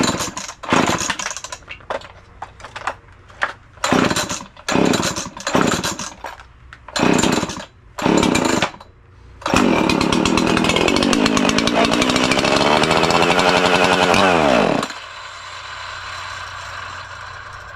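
An Echo chainsaw engine pulled over in a series of short bursts, then catching and running loudly with a revving roar before settling to a quieter idle, close by with no talk.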